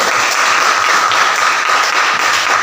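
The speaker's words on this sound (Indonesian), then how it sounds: "Luar biasa, kita berikan aplaus." Students applauding in a history classroom, a dense, steady round of clapping from a group that fills the room for a few seconds without talking.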